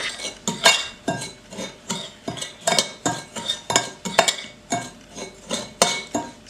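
A spoon scrapes and clinks against a mixing bowl while brown sugar is stirred in for homemade cinnamon rolls, making rapid rhythmic strokes up close with no talk.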